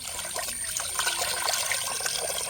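Cleaned vayambu fish caught by cast net are rinsed in water, giving a continuous close splashing and trickling at a moderate level.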